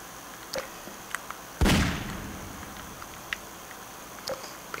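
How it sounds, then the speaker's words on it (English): A single heavy revolver shot in the video game Half-Life 2, a sharp loud blast with a decaying tail, surrounded by quiet game ambience and small clicks. "Let's actually use the revolver"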